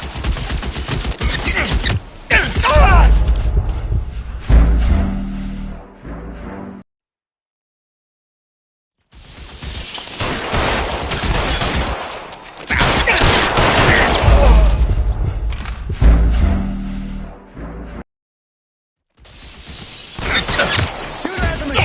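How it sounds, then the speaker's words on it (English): Bursts of machine gun fire from a shooter in L.A. Noire, loud and close, coming in dense rapid volleys separated by two short silent gaps, with breaking and shattering noises mixed in. "Shooter has a machine gun."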